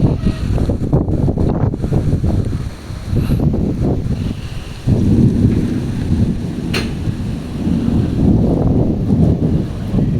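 Strong gusting wind roars and buffets loudly, with rain hissing underneath and a brief sharp crack partway through; no voices.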